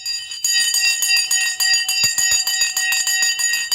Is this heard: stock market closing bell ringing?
yes